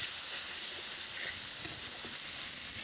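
Green chili and cumin paste fries in a hot pan with a steady, loud sizzle and faint stirring scrapes, with no voices.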